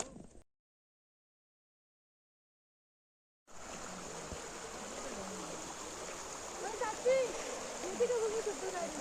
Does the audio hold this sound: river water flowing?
yes